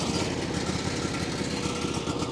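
The small engine of a Hansa C16 wood chipper runs in a steady, rapid mechanical chug, loud and close, with no pauses.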